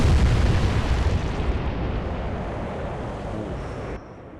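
A ship struck by a torpedo explodes in the naval strategy game Atlantic Fleet, a loud, deep booming blast that rumbles on and slowly fades before cutting off abruptly, with no voices.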